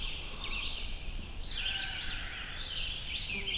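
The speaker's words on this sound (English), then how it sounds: "he's trying to do his crow locator call" Another hunter blows a crow locator call on public land during a Pennsylvania turkey hunt, sounding as a few raspy, harsh caws some distance away, with no voices over them.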